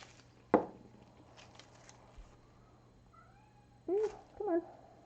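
A pet cat close by lets out two short meows in quick succession near the end. A sharp knock sounds earlier, over a quiet hum, and no one speaks.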